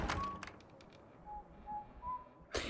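A middle-aged man in a video game cutscene whistles a song, a few short, faint whistled notes spaced apart over soft background noise, with a sharp thump at the start and another near the end.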